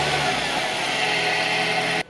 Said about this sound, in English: So I'm going to start the car and hopefully it works.